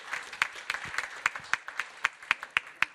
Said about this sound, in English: So maybe just a round of applause again